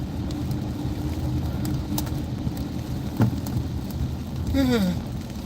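Steady rain washes over a car driving in slow Houston traffic, a constant dense hiss and road rumble with a couple of brief higher squeaks or whines near the end.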